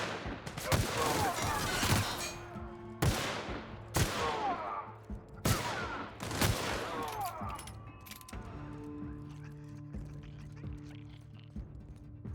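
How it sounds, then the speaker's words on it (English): Handgun shots in The Outer Worlds, a run of loud, sharp single reports spaced roughly a second apart, each with a decaying ring, followed by quieter scattered game sounds. "Let's try the handgun."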